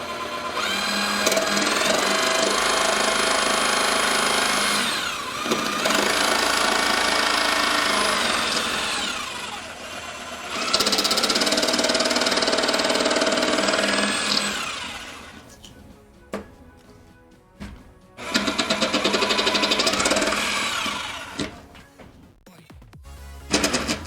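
A power drill bores holes into a whitewood pinball playfield in a home workshop, with three long loud runs of whining motor followed by shorter bursts and clatter near the end.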